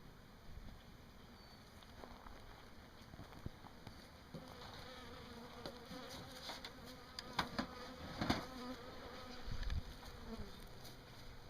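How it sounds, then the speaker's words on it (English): Dense buzzing of a package of honeybees being shaken out of their box into a hive, a steady close swarm hum with scattered louder bursts and thumps as the box is handled. "we'll put this whole box of bees right in here"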